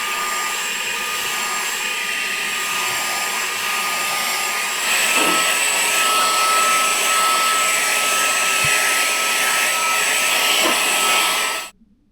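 A handheld car vacuum cleaner runs steadily with a high whine and broadband rush, slightly louder midway, then cuts off abruptly at the end.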